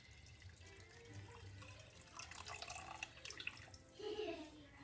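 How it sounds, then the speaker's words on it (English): Water is poured back out of a very hot, slippery glass container, a quiet trickle and splash building toward the end, with low talk nearby. "Trying to pour the water back."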